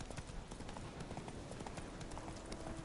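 Roach, Geralt's horse in The Witcher 3, gallops at a quick, even clip-clop, the hoofbeats close and steady throughout.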